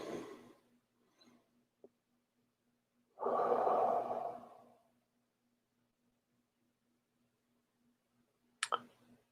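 A single deep inhalation during a guided meditation, a soft broad breathy rush lasting about a second and a half in an otherwise quiet room, with a faint steady hum and a few small clicks around it.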